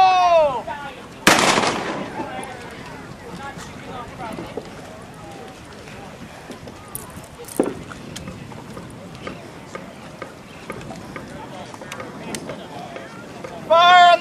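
A loud broadband blast, likely a black-powder gun or cannon shot at a Stuart pirate festival, sounds near the start, with a fainter report midway amid crowd chatter and shouting.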